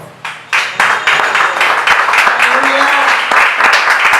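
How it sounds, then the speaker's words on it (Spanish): Applause in a church service starts with a few scattered claps and quickly swells into loud, close clapping from the congregation, with a voice briefly heard underneath. "Denle un aplauso al Señor."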